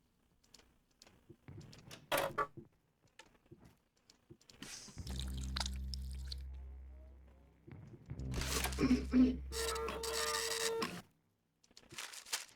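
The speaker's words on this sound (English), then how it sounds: "Ink in the printer." A printer in the Riddlewood Manor video game runs after ink is added, with clicks and mechanical feeding noises followed by longer whirring, grinding stretches of printing that end abruptly.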